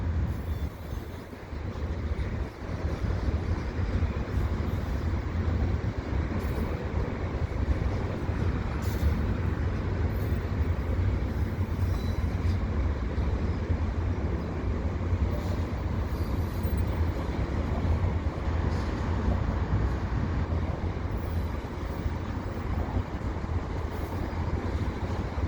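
CN and CP freight trains stand at Dorval, giving a steady, loud low rumble of idling locomotives and rail cars that holds evenly throughout, with no talk.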